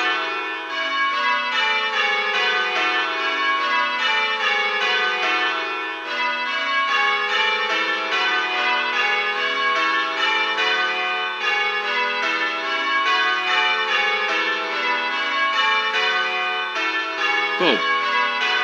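A ring of church bells is rung in plain hunt to fourths place, then a touch of Little Bob Minor. Overlapping strikes of several bells form a steady cascading rhythm that runs loud and continuous throughout.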